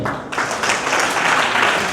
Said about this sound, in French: applaudissez pour tous ceux qui ont gagné